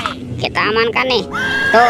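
A toy zebra gives an electronic neighing whinny in a wavering, high, horse-like cry, heard close up and mixed with a person talking over it.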